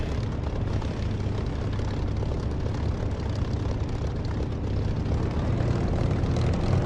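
Propeller aircraft engine drone in the DCS flight simulator as the plane taxis toward the centre of the runway, a steady, continuous loud hum with no talking over it.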